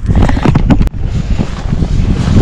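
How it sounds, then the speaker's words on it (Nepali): Wind blows through a jungle, a loud, constant rushing buffet against the microphone with a brief sharp crackle near the start and no voices. "अब यहाँबाट हावा पनि चलिरहेको छ"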